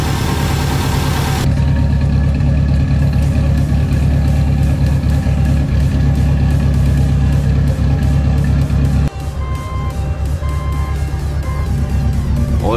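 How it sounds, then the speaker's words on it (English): A built-motor Subaru Legacy GT engine idling while warming up, a loud, steady low rumble with constant even vibration throughout and a slight drop in level near the end, no voices. "And now we just wait and let the motor warm up"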